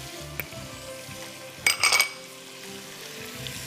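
Carrot, capsicum and green onion sautéed in a pan for chicken chow mein, a soft steady sizzle under a burst of clinking utensil stirs midway, then settling back to a low fry.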